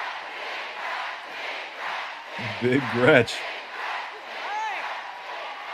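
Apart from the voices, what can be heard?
crowd cheering for Gretchen Whitmer at Detroit rally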